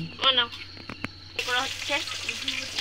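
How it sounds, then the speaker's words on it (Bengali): Potatoes and meat fry in a pan at an outdoor picnic, with a crackling sizzle that grows louder partway through, while a voice speaks briefly over it. "আলুটা ভেজে নেওয়া হবে, মাংসের আলু।"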